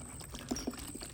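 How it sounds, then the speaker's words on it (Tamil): Water is poured into a can outdoors at dusk, giving a faint, quiet trickle with a few small splashy clinks in a soft, low background. "இது வந்து நம்ம கேனில் கொஞ்சம் தண்ணி ஊற்றிக்கிட்டு இருக்கோம்"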